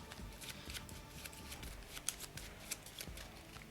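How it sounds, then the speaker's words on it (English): A deck of cards for the Kingdom Death Monster board game is shuffled close by, giving soft, steady riffling and flicking with a few sharper snaps and no talk. "So let's shuffle up our AI deck."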